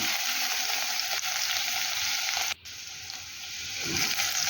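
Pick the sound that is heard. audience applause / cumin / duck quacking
cumin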